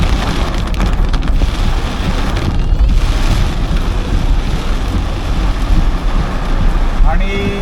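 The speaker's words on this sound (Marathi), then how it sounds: "मुसळधार पाऊस आहे आणि वारा सुटला जोरदार." Heavy monsoon rain and strong wind lash a car on the Mumbai-Goa highway NH-66, a dense, steady roar of rain and gusting wind noise throughout, with low rumbling buffeting and a faint tonal whine near the end.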